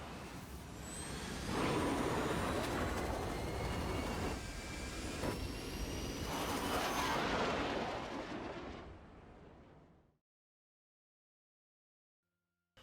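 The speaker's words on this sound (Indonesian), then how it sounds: "akhirnya mesin Ranger bisa dinyalakan dan Cooper bersama Brand bisa keluar dari planet Miller" Ranger spacecraft engine igniting in the film Interstellar, a loud, roaring blast of rumbling thrust with hissing whooshes and rising whines swelling over several seconds, then fading away into silence.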